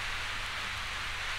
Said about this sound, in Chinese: 哦，倾盆大雨